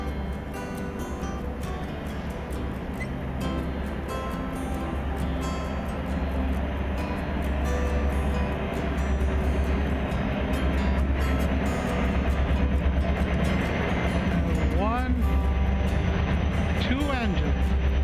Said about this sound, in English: been outside long enough to have yet another train coming through